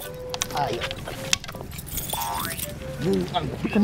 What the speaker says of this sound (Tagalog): Ba't di makuha yung susi?